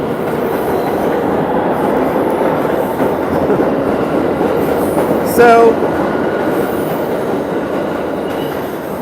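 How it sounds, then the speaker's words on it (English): A train rolls through a station, its loud, continuous rumble and rattle of carriages filling the scene. A brief metallic squeal of wheels rises midway, and a voice speaks briefly. "Thought that was my train, but it's not my train."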